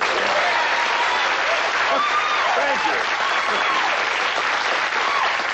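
Audience applause fills the room, loud, dense and steady from start to finish, while someone briefly speaks over it.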